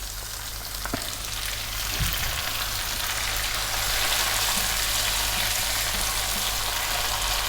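Onion and tomato sauté in a frying pan with a loud, dense, steady sizzle that holds nearly unchanged throughout, with a faint tap or two near the start and no talk.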